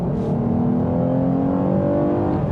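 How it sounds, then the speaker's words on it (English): A Lexus RC 350 V6 engine revs with its active sound control switched off, a steady, fairly loud engine tone that climbs slowly in pitch, heard alone without talk. "the engine still sounds good"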